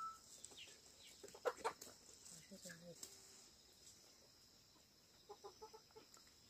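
Chickens on a village farm cluck in short bursts, faint and somewhat distant, amid rural background hum and insect chirping, with a voice talking nearby.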